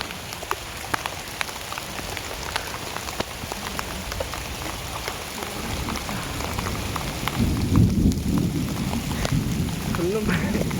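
Heavy rain falls with distant rumbling thunder during a fishing outing under dark clouds, a steady loud patter with scattered drop impacts that swells louder later on, with faint talk underneath.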